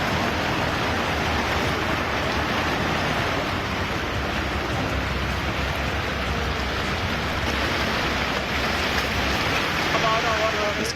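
Sea waves surging against a shore during heavy rain, a steady loud wash of surf with wind noise, continuous and close throughout.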